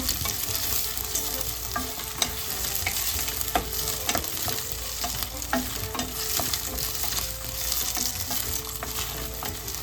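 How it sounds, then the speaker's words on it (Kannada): Potatoes and tempering spices frying for avarekalu masala pulao, a constant close sizzle broken by frequent scraping and clinking stir strokes in the pan, with no talk. "ಒಗ್ಗರಣೆ ಎಲ್ಲ ಸ್ವಲ್ಪ ಹೊತ್ತು ಒಂದು 1 ನಿಮಿಷದ ಕಾಲ ಇದನ್ನು ಫ್ರೈ ಮಾಡೋಣ"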